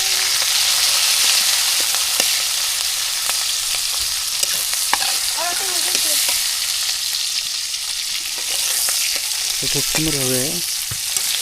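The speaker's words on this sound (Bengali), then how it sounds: "তো সবগুলো একবারে তেলের মধ্যে দিয়ে দিলাম। তো একটু নাড়াচাড়া করে দিয়ে দেবে।" Chopped onions frying in hot oil with a loud continuous sizzle, a spoon scraping as they are stirred, and a brief spoken comment.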